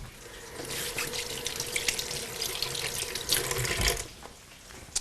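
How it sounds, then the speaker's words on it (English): Water runs from a kitchen tap into a sink as hands are washed, a steady close splashing rush that fades out near the end. "Wash my hands."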